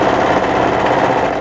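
An overlocker serges up a knit sweater sleeve seam near the underarm, its motor running at a fast, even, buzzing drone from start to finish with no voices.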